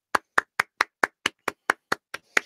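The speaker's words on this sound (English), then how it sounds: "See, look, I clap and cheer." Eleven crisp, evenly spaced hand claps, close and clear, at a steady brisk pace with silence between each, with no audible cheering.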